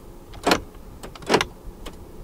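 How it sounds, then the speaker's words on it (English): Central door locks of a 2019 Honda Accord 2.0 VTi-L actuate in two sharp, close mechanical clunks about a second apart, followed by a fainter click, inside a quiet cabin. "Central locking."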